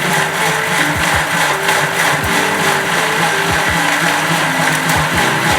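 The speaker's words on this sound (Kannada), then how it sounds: "ಆ್ಯಂಡ್ ಒಂದು ಸ್ವಲ್ಪ ನೀರು ಹಾಕಿ ರುಬ್ಕೊಬರೋಣ." A mixer grinder blends a chutney of tamarind, chilli, coriander, garlic and chana with a little water, its loud steady whir running throughout, nearby and without talk.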